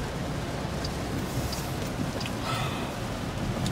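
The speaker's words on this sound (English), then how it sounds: "It is raining, so it's really not making it no better." Cold rain falls outdoors in California, a steady, even hiss of drops that stays constant throughout, with a few faint higher ticks and no talking.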